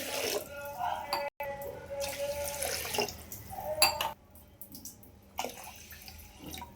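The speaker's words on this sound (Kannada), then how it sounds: "ಇವಾಗ ನೀರು ಹಾಕ್ತಾಯಿದ್ದೀನಿ" Water is poured from a vessel into a metal pressure cooker in a few separate pours, close by, with brief clinks of metal between them.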